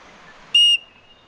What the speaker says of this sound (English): I've got a whistle to attract attention.